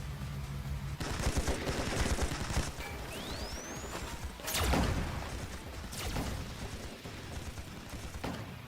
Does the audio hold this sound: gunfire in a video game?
yes